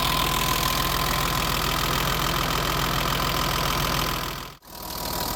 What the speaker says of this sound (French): c'est sûr que ce 6 cylindres fait ce bruit de toute façon